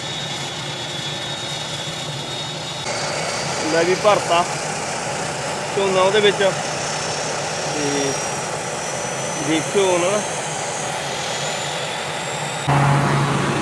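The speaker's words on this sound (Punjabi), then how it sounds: "ਥੋੜੀ ਜਿਹੀ ਆਵਾਜ਼ ਸ਼ਾਇਦ ਆਉਂਦੀ ਹੋਣੀ ਉਹਦੀ ਨਾਲ ਜਹਾਜ਼ ਦੀ" A steady crop-seeding airplane engine drone hums in the background throughout, over California rice fields, while someone talks over it at close range.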